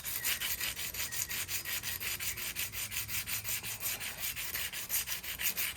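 120 grit sandpaper rubs around a curb-rashed wheel in steady back-and-forth strokes, a close, even, rhythmic scratching that continues without pause.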